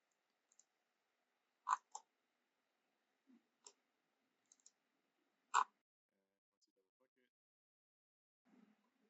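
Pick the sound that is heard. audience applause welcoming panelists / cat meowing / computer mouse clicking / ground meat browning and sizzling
computer mouse clicking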